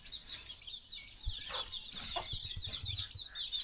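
Chickens cluck and peck while feeding outdoors, several short clucks scattered over a steady high chirping of birds in the background, fairly close and continuous with no talking.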